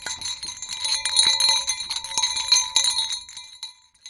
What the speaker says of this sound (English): they tested a popular item marketed to alert bears to your presence. Bear bells.